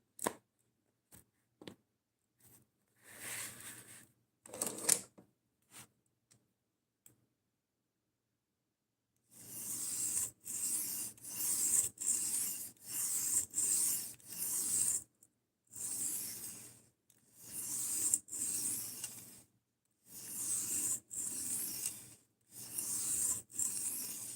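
Sandpaper of different grits rubs over a surface by hand: first a few short, sparse scratches, then after a brief silence a long run of quick, rhythmic raspy strokes with small pauses between them, close and without talk.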